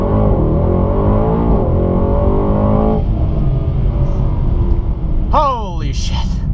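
A Mercedes-AMG E63S in race mode launches hard from a standstill, its engine revving up in a loud, rising roar with quick gear changes. A voice cuts in briefly near the end.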